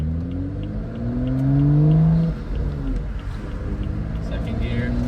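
A BMW F30 with the N55 engine and a Burger Motorsports performance intake accelerates hard, its engine note climbing steadily in pitch through the gear before dropping back, loud and close.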